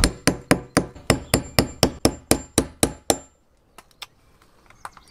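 A hammer strikes about a dozen times in an even, brisk rhythm with sharp, loud, close blows, followed by a few lighter taps, while fitting a diesel heater auxiliary fuel line.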